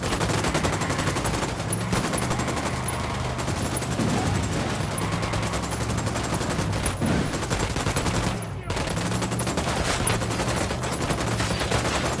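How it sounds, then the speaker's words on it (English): Sustained automatic gunfire from a Ghost Recon Wildlands firefight, dense bursts and volleys rolling on almost without pause for the whole span, with a brief lull near the end, under game music and occasional voices. "I'm opening fire on these shitheads."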